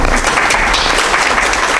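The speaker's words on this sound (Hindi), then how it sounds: "तालियों से स्वागत।" Audience at a 2014 astrology seminar and convocation applauds a guest being welcomed, dense continuous clapping that stays loud and even for the whole short stretch.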